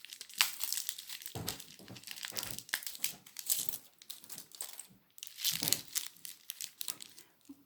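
Plastic packaging crinkles and tears nearby as it is pulled open, with continuous crackling rustles and a few louder crunches, no speech.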